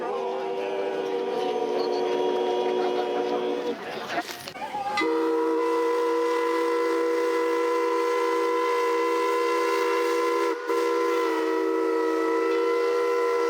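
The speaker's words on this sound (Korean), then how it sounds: "추억을 부르는 긴 기적 소리." A long, sustained steam train whistle from a historic logging train in Wisconsin sounds with a steady tone, briefly interrupted, over a faint rumble of the train.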